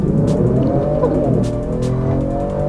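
A 2019 Genesis G70 accelerating, its engine note heard from inside the cabin as a loud, steady growl that climbs in pitch, drops briefly at a gear change, then rises again.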